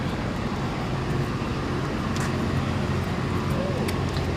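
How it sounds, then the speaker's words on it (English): City street traffic in New Orleans, a steady roar of passing cars rumbling close by throughout, with people talking over it. "Oh, cars with the loud music."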